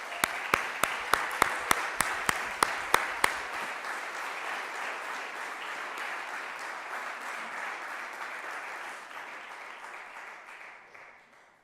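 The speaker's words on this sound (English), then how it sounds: "So join me in giving a big applause to all of the volunteers in West Hollywood." Applause for volunteers at a West Hollywood public safety awards meeting, opening with a few loud, distinct claps over a sustained wash of crowd clapping that holds steady and then slowly fades out.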